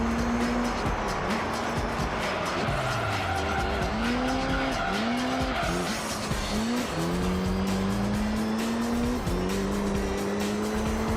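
Car tires squeal and skid continuously in the racing game Gran Turismo 3 on badly worn tires, with wavering, sliding screeches layered over a steady engine roar, loud and close throughout.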